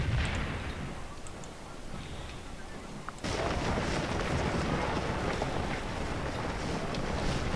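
Musket and artillery fire in the Scourge of War video game, a distant continuous rumble and crackle that steps up sharply in intensity about a third of the way through and keeps a steady dense roar.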